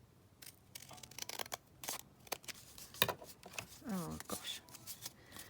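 Scissors trim material at a desk, with several short crisp snipping bursts close by and a brief exclamation spoken partway through.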